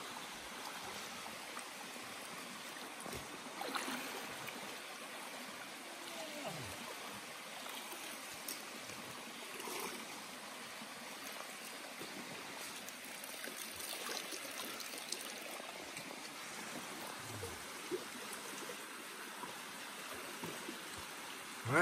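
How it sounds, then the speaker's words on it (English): A brook on the Appalachian Trail in Maine, Bald Mountain area, flows and trickles steadily and quietly as hikers wade across it, with occasional soft splashes and no talking. "You can see everyone else fording it now."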